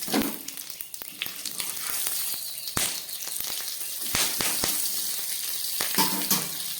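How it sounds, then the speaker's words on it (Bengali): Cumin seeds, a green chili and a bay leaf hit hot oil left from frying fish, setting off a bright, loud sizzle peppered with sharp pops and spits that goes on steadily. "এই মাছ ভাজার গরম তেলের মধ্যে আমি দিয়ে দিচ্ছি একটু জিরে ফোড়ন, আর দিয়ে দিচ্ছি একটা কাঁচা লঙ্কা, আর দিয়ে দিচ্ছি একটা তেজপাতা"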